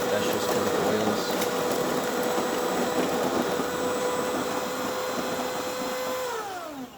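A DeLonghi espresso machine grinding coffee beans: a loud, steady mechanical grinding whir runs continuously, then winds down and fades at the end.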